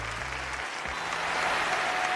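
Studio audience at a dating show breaking into applause, a dense steady clapping from a crowd that holds and grows slightly louder, with a brief voice at the start.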